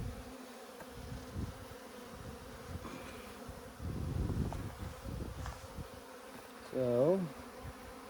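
Honeybees at an Alaska beehive hum in soft, intermittent buzzes that swell and fade as individual bees fly close, including a brief wavering buzz near the end, faint against quiet outdoor background.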